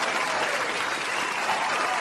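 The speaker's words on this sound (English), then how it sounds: "Another round of applause," A comedy showcase crowd gives a round of applause: thick, continuous clapping, loud and close, with no talking over it.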